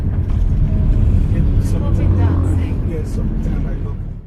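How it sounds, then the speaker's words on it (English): Car driving slowly through the crowded open-air Kejetia Market in Kumasi, a steady close engine rumble with faint market bustle and a voice talking over it. "We are driving through one of the biggest open air markets in West Africa called Kejetia Market"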